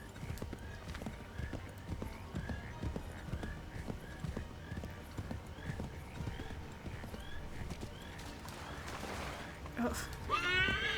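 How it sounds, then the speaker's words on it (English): Horse in the Assassin's Creed III video game, steady clip-clop of hooves throughout, with a brief whinny near the end, heard under faint player talk. "Oh, I think his horse got hurt."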